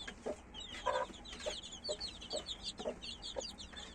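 Young Indian-breed chickens cluck and murmur close by, with repeated short calls scattered over a steady bed of soft rustling and higher chirps.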